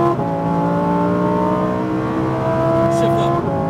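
A Lamborghini Huracán STO's engine roars loudly and steadily while accelerating on a race track, a sustained high, rising drone heard close from inside the car, with a brief spoken remark over it.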